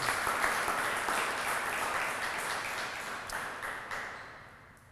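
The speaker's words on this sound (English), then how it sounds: "Could we get a round of applause for these individuals?" Sustained crowd applause at a gathering honoring first responders, supported by local hospitals and a public safety foundation; dense steady clapping from a large audience that gradually thins and fades toward the end.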